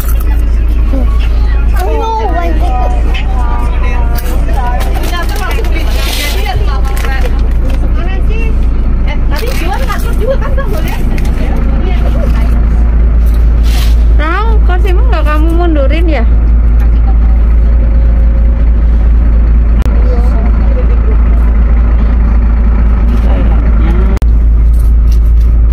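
Interior of a Sinar Jaya sleeper bus travelling from Jakarta to Solo, a loud constant low engine and road rumble filling the cabin, with a person talking intermittently over it.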